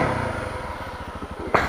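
Honda CRF250L dual sport motorcycle engine revving as its rear tire spins on wet leaves in the woods, a steady pulsing close-up drone that ends in a short sharp burst.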